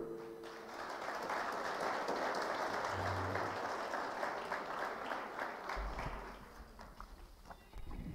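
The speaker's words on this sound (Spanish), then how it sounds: "Lo vamos a recibir con fuertes aplausos." A crowd breaks into sustained applause, a dense wash of clapping that stays steady for several seconds before tapering slightly, at a university authorities' proclamation ceremony.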